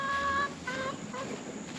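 A chicken on a hobby farm gives a few short clucking calls up close, in a quiet setting with faint background hiss.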